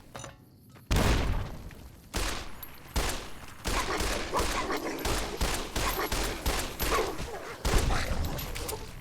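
Gunfire in Fallout: New Vegas, a rapid series of sharp close shots after a brief quiet start, loud and repeated irregularly across the stretch.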